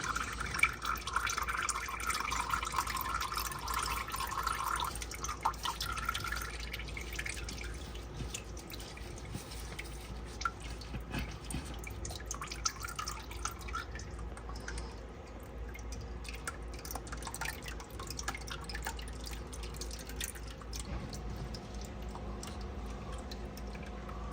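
Engine oil trickles and drips steadily from a Volvo S80 V8 for a long stretch, a thin continuous pour with wet splatters, moderately quiet.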